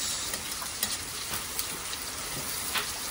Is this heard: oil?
yes